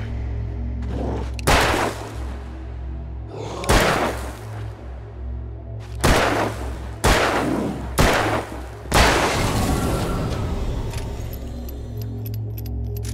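Gunfire in the video game Alan Wake: five or six loud, sharp shots spaced a second or two apart, each with a short decaying tail, over a constant low background hum.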